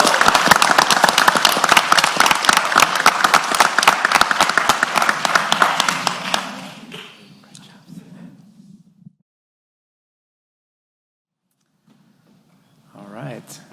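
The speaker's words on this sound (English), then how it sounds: "let's give a big round of applause for our second place winner, Steven Herrera with Pinpoint Irrigation" A big round of applause fills a pitch competition hall for a second-place winner, loud dense clapping for about six seconds before fading out, then a short stretch of silence and a brief return of faint noise.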